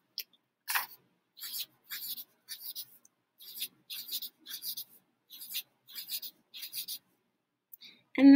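Pencil or pen writing a short word three times on paper, heard as about a dozen brief, quiet scratchy strokes in even bursts, fairly close, with no talking over them.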